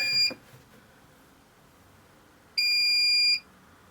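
Two loud electronic beeps inside a converted camper van, a short one at the start and a longer one after a pause, shrill and close, with quiet background between.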